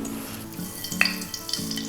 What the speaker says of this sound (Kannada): ಸಾಸಿವೆಯನ್ನು ಹಾಕ್ತಾಯಿದ್ದೀನಿ